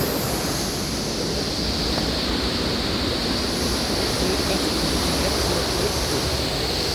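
At the top of a spectacular waterfall, a steady, close, broadband roar of rushing water continues without a break, even and unvarying throughout.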